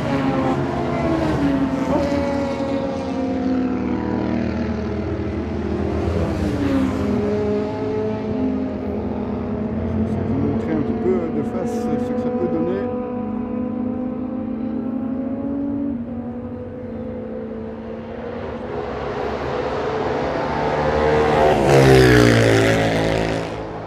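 Racing motorcycles roar past on the Spa circuit at dusk during the Bikers Classics event, with sustained, loud engine drone rising and falling and a louder pass near the end.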